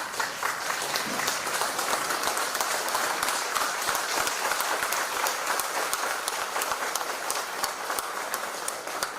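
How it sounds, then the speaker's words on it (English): A standing audience at a farewell function gives the chief guest a round of applause, a steady, dense clapping that carries on evenly for about nine seconds with no voices over it. "would you kindly please stand up and give a round of applause for the chief?"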